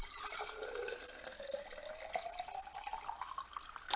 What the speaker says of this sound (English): you hear me pour that water